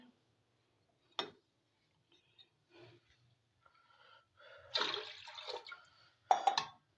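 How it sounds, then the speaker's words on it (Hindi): Water is poured into a cooking pot of washed chicken for Kashmiri-style dal chawal, a faint, quiet splashing that comes in short intermittent bursts, with a longer pour near the end. "अब हम 4 गिलास पानी डालेंगे।"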